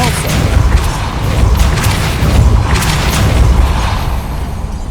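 A Depulso spell is cast in Hogwarts Legacy, producing a loud, rumbling boom with a forceful blast that sustains heavily for several seconds, close and dominant.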